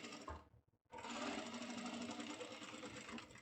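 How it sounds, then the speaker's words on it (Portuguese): A sewing machine topstitches a vest with a buckle, running in a steady, close rapid whir after a brief pause at the start, with a faint voice at the very beginning. "E você vai fazer um tipo de um pesponto por cima"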